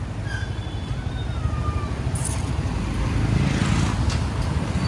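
Steady road traffic on a small, crowded street in Pune, cars and motorcycles rumbling close by with a continuous low engine drone that swells slightly toward the end, a couple of faint horn-like tones above it.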